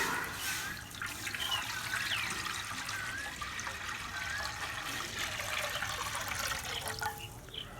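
About 1.5 liters of water poured into a wok on the stove for chicken vegetable soup, a steady gushing, splashing stream running for several seconds with no talk.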